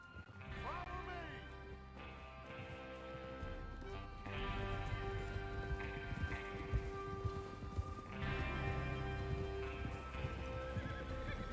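Horses in Red Dead Redemption 2 clip-clopping along with a neigh, hoofbeats rolling steadily under game music and someone talking.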